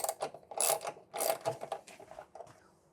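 A socket ratchet clicks in short bursts while bolts are loosened on a custom cafe racer motorcycle, with close, sharp pawl clatter fading out after a few strokes.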